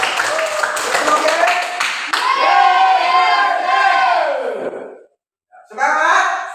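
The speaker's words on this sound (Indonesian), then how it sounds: "Kita memberikan aplaus dulu." A classroom of students gives a short burst of applause that quickly turns into loud, enthusiastic group shouting and cheering voices, then cuts off briefly before another shout.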